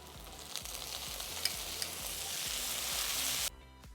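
Tomato and onion sautéing in a pan give a steady close sizzle with light crackles and occasional stirring scrapes, cutting off abruptly near the end.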